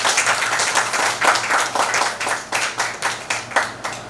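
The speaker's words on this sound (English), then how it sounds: "A big round of applause, ma'am." An audience at a press conference for a Mumbai queer film festival claps in sustained, loud applause, dense and continuous with uneven peaks.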